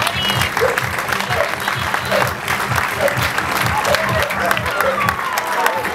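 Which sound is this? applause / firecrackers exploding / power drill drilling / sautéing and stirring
applause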